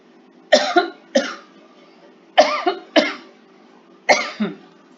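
Coughing in a quiet room, five short harsh bursts coming in pairs and singles, each with a rough second pulse, fairly close and moderately loud over a low steady hum.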